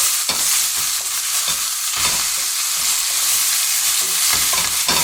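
Shallots sizzle loudly in a buttered pan for rabbit chasseur, a dense, close frying hiss with stirring scrapes throughout and no voices.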